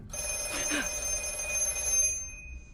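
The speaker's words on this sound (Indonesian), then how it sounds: "Namun seketika telepon kembali berdering" A telephone bell rings with a steady metallic trill, then cuts off, over a low background hum.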